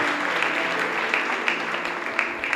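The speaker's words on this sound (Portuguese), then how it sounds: "Você pode aplaudir ao Senhor em nome de Jesus?" Steady applause from a church congregation during a Sunday morning service, a dense patter of clapping that holds at an even level throughout.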